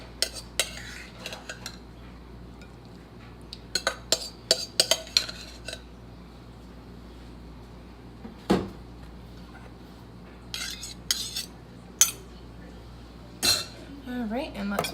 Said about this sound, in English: I'm gonna start plating up